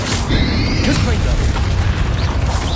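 A Confringo fire spell explodes in Hogwarts Legacy during a goblin battle, a loud continuous blast-like rumble with crackling debris and a brief whooshing tone at the start, sustained throughout.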